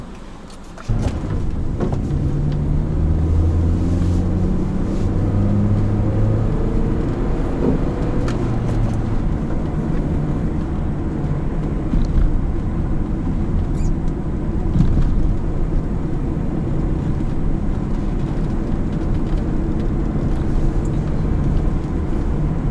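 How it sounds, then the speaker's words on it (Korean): A manual-transmission Hyundai Sonata The Brilliant accelerating uphill in third gear at about 2000 rpm, its engine giving a steady, loud low drone with rising harmonic sweeps heard from inside the cabin, no talk. "이 정도에서 이렇게 악셀 페달 쭉 밟으면서 오르막 올라가고 있는데"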